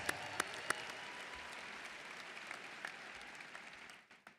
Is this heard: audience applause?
yes